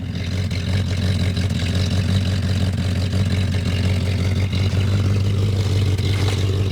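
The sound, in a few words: old car engine idling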